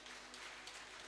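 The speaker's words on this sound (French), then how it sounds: "Est-ce qu'on applaudit notre Dieu bien-aimé?" A church congregation applauding during a sermon: a short, faint patter of clapping hands from a crowd, heard at a distance.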